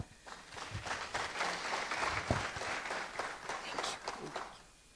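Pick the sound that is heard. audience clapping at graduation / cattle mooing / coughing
audience clapping at graduation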